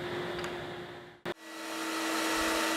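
Table saw cutting grooves in dovetail box parts, a steady loud whining roar that cuts out briefly with a short sharp burst in the middle, then builds back up and carries on.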